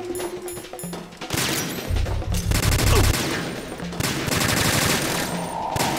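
Sustained automatic gunfire from Metal Gear Solid 2: Substance during an alert, rapid bursts continuing loud and dense throughout, with heavy low thumps of impacts or explosions mid-way.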